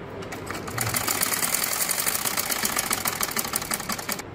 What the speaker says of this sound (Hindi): इन्हीं निशानों के ऊपर मैं इसको फोल्ड कर कर ये सिलाई लगा रही हूँ।